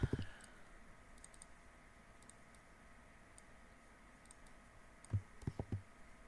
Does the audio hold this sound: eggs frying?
no